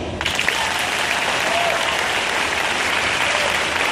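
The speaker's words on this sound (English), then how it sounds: "Okay, let's clap again." Steady, dense applause from a concert crowd in Mesquite, Texas, continuous and fairly loud throughout with no pauses.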